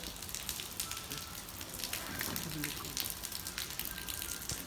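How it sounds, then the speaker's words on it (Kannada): Steady rain patters down in a dense, even hiss, with scattered drips and splashes standing out now and then. "ಸ್ಲೋ ಮಳೆ ಅಂದ್ಕೊಂಡ್ರೆ ಫಾಸ್ಟ್ ಆಯ್ತು"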